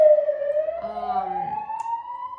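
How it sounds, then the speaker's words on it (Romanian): A loud ambulance siren wails steadily, its tone sliding slowly upward over a couple of seconds, with faint low rumbling and a brief murmur partway through; heard near a hospital. "aud o ambulanță"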